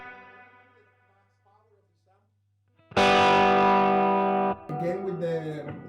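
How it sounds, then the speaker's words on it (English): Electric guitar through a Fender 68 Custom Vibro Champ amp with reverb on, a distorted chord ringing loud with a reverberant tail and then cut short, preceded by a quieter decaying tone and followed by more played notes. "so let me turn on the reverb again."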